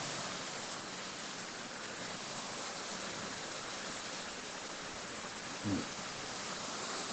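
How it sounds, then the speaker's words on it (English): Heavy rain falling steadily, a dense, even hiss of pouring water that fills the whole stretch with no pauses, with one brief low thump partway through. "It starts raining heavily."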